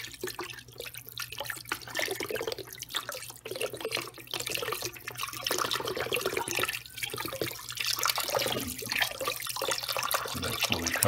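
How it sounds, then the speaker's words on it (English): Chicken broth pours steadily into a slow cooker for neckbone soup, a continuous close splashing liquid stream running without pause. "I'm gonna add some my chicken broth."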